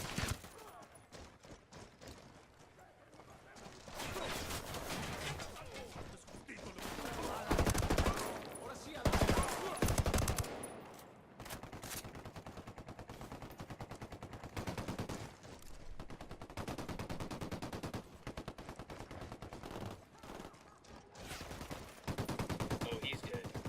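Bursts of automatic and single-shot gunfire crackle through a tactical shooter firefight in Ghost Recon Wildlands, repeated volleys and rapid fire over about twenty seconds, with occasional talk mixed in.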